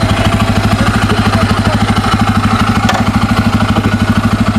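A Bajaj Pulsar N250 motorcycle idles in neutral, close and loud, with an even, rapid thumping pulse that holds steady throughout.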